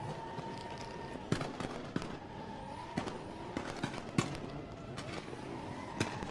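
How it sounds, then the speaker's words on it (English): Drift cars at a Red Bull Car Park Drift event in Muscat scream around a tight course, a continuous roaring engine din punctuated by sharp backfire cracks and pops, heard from the crowd at moderate distance. "This is where the noise and the smoke really show the performance of these cars."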